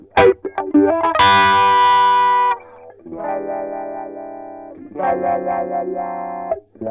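Electric guitar runs through a Cry Baby Mini Wah pedal on its mid-focused vintage setting, distorted sustained notes and short phrases with a vocal, sweeping filtered tone, loud and close with no talk.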